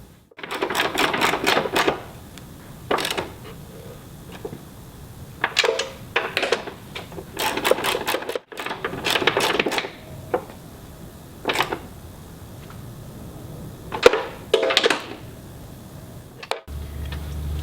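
Bolts on a fuel tank guard of a Land Rover Defender Puma being run down with a 13mm socket, giving rapid bursts of close ratchet clicking in repeated spells with short pauses between, no talking.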